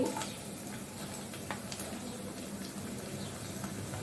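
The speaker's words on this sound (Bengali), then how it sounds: "তো এখানে পেঁয়াজ কুচিটি দিয়ে দিচ্ছি।" Chopped onions frying with dried chillies for a chickpea dish, giving a continuous close sizzle dotted with small crackles and pops.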